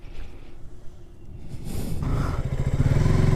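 A KTM RC 200 motorcycle engine idles with a low, uneven putter, then revs up into a louder, buzzier, rapidly pulsing drone in the last second or so.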